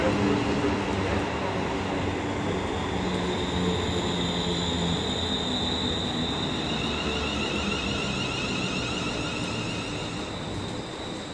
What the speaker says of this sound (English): departing now is 350239 with the 1700 London Midland service to Liverpool Lime Street from Birmingham New Street